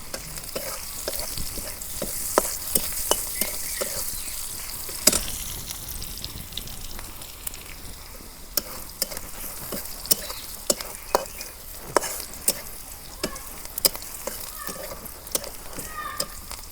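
Onions with cumin seeds fry in a pan in a village kitchen, a constant crackling sizzle broken by frequent sharp scrapes and clinks of a spoon stirring, close up, with some faint background sound.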